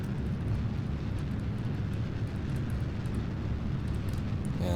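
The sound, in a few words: rocket engine at full throttle, video game Kerbal Space Program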